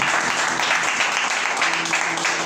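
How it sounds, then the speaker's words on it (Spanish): A church congregation at a Sunday school service applauds in a dense, continuous wash of clapping that holds steady throughout, with faint voices mixed in underneath. "Denle un aplauso al que vive."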